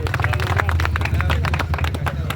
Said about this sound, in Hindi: भाई सबसे पहले तो तालियों से स्वागत कीजिए भाई साहब का